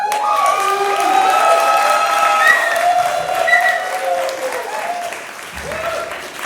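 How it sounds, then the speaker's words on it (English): Audience applause fills a room at a comedy training class graduation, steady clapping with a few cheering voices rising over it, holding for several seconds before tapering slightly. "by round of applause, do you think this class should graduate?"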